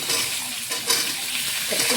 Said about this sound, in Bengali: এই কুমড়োটা আলুটা আমি তেলের মধ্যে দিয়ে দিলাম।